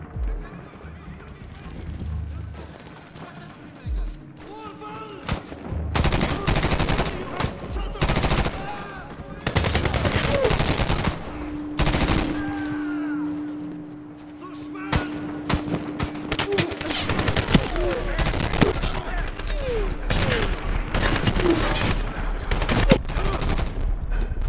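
Gunfire crackles in the Medal of Honor video game on Xbox 360, bursts of rapid shots and loud reports coming in waves alongside horse whinnies and hoofbeats, with someone speaking French at times.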